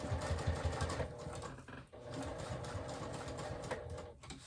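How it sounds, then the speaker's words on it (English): Sewing machine stitching steadily through a thick foam-lined wristlet clutch at a long stitch length, a close, continuous rapid mechanical whir with one brief pause midway and no talking. "And then we're just going to keep sewing around."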